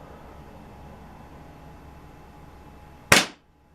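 A single sharp airgun shot cracks out near the end after a quiet stretch of low background hiss, loud and close with a fast decay.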